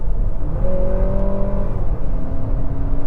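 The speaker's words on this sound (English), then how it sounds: "if I put it in eco driving mode and I floor it a third time" 2024 Lexus TX500h F Sport Performance hybrid AWD SUV accelerating at full throttle in eco mode, a steady loud engine drone with rising gear tones and a shift partway through, heard from inside the cabin.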